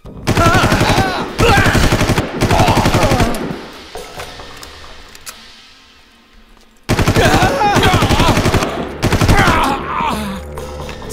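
Loud rapid-fire automatic gunfire from the video game Far Cry rattles in sustained bursts, pausing briefly for a quieter stretch before another intense volley erupts.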